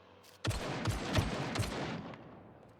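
A rapid burst of four or five sharp shots in quick succession from an AK-47 in the video game SCUM, loud and close, followed by a fading tail of noise.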